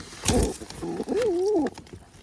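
A pigeon gives a close, low cooing call, a short throaty burst followed by a longer wavering coo.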